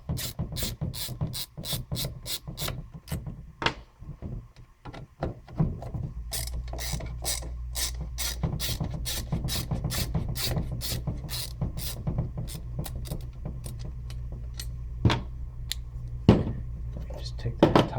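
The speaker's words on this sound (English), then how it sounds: "we're gonna loosen the two T20 screws that hold this top plate down" Close, crisp clicking and ratcheting as two T20 Torx screws holding the top plate of a VW MK4 gear shifter are loosened, sharp ticks repeating over a steady low background hum.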